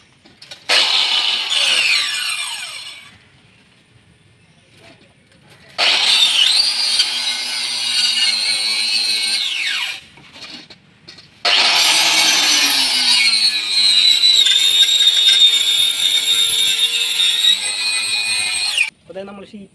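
Power saw cutting along the edge of a cupboard sheet, three loud sustained buzzing cuts of several seconds each separated by short pauses.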